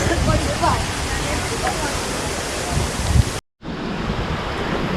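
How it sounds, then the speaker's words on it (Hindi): The Seven Sisters Waterfall at Cherrapunjee Eco Park in Meghalaya sends out a forceful, steady roar of rushing water with wind buffeting the microphone, broken by a brief dropout of silence near the end. "ये पानी का झरना है"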